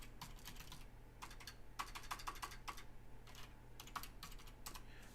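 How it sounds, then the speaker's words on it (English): Rapid computer keyboard typing in bursts of clustered clicks with short pauses, close and moderately quiet over a low steady background hum during a live coin auction. "Doing this by myself, so my typing is a little off."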